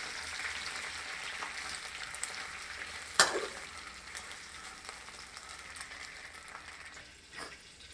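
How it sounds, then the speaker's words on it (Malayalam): Chillies frying in hot oil for pickle make a steady, moderate sizzle with crackling texture, plus one sharper spit or clatter partway through, fading slightly toward the end. "എണ്ണ ചൂടായതിന് ശേഷം മുളക് എണ്ണയിലേക്ക് ഇടുക."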